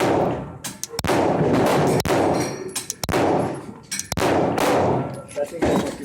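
Glock 17 FDE pistol fired at a shooting range, four loud sharp gunshots spaced about a second apart, each with a ringing metallic tail, with people talking between shots.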